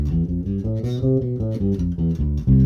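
A bass guitar plays a major scale from root up to octave, one note after another in a steady, even rhythm, each note ringing close and clear with no talking.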